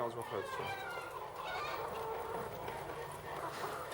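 Chickens cluck and call continuously around a small egg-collecting robot on a smart farm's poultry floor, several birds overlapping at close range with a steady busy texture throughout.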